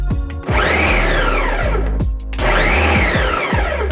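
A food processor pulsing to chop gumbo ingredients: loud whirring motor bursts that rise in pitch, with brief cut-offs and restarts between pulses and chopping rattle inside the bowl.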